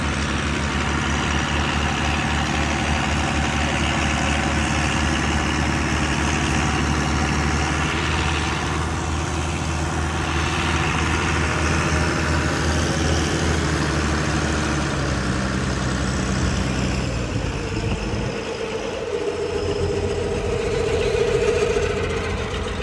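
An International 200 tractor engine runs under load on a dyno, giving a loud, steady, low drone that holds throughout with slight shifts in pitch near the end and no talk over it.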